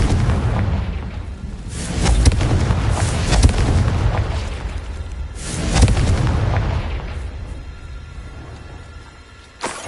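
Spell blasts from the Confringo fire spell in Hogwarts Legacy, two heavy booming explosions with long rumbling tails, one near the start and a second around the middle, fading out toward the end.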